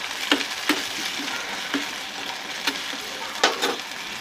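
Pumpkin seed and peel bhujia frying in a pan with a steady sizzle, punctuated by several sharp scrapes of a spoon stirring the mixture.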